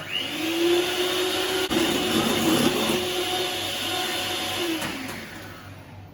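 A stand mixer whisks egg yolks with hot sugar syrup on low speed for a dark chocolate mousse, giving a steady motor whir with a faint rising whine, close and continuous with no talk.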